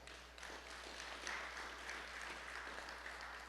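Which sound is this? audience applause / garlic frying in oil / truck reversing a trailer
audience applause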